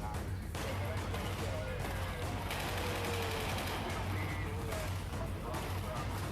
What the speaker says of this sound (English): Are they actually shooting at them?